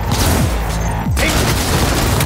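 A grenade blast in the video game Cyberpunk 2077 fills the scene with a loud, dense roar that runs the whole time, mixed with heavy gunfire-like crackle and booming rumble.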